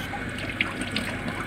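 Tap water runs steadily into a kitchen sink, rinsing soap off dishes, with a few small clinks of dishware over the constant splash; no talking.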